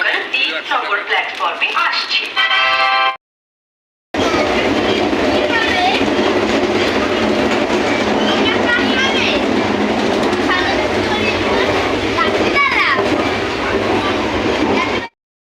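A passenger train rumbles along the rails at a station, a loud, broad, continuous roar with clattering wheels after a brief quieter stretch, while people talk nearby.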